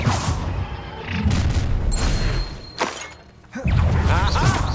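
A Confringo fire spell blasts in a Hogwarts Legacy battle, a loud, booming burst followed by crashing combat impacts, with a brief lull before another heavy explosion.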